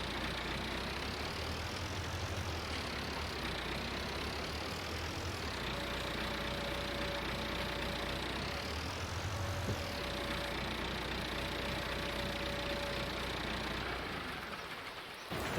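A tractor engine idles in the farming video game Farming Simulator 19, a low steady drone with a couple of slow revving swells and a faint tonal whine, running alone without any speech.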